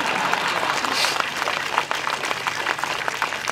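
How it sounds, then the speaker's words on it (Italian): Festival crowd applause at an Italian patronal feast for San Donato in Ripacandida, Basilicata: dense, steady clapping from many hands fills the clip at close range with no voices over it. "facciamo un applauso a tutto lo ciuoto"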